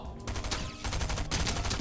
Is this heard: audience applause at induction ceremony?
no